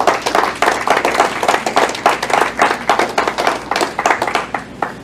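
A church congregation claps together in a quick, even rhythm, loud and close, sustained without a break and with no talking over it.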